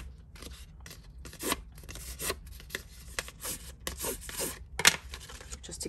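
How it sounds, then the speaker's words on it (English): Paper being curled with a bone folder while assembling a mailbox craft: close, repeated scraping and rubbing strokes in uneven bursts, fairly loud, with no talking. "take my bone folder and just kind of curl this up a little"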